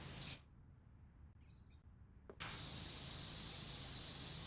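Pressure washer spraying in the video game PowerWash Simulator, a loud steady hissing blast that cuts out briefly, leaving near silence with faint chirps, then surges back on and holds continuously.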